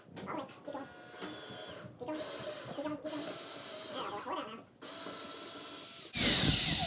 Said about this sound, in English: Andreas, you want to drill a hole through the middle of there?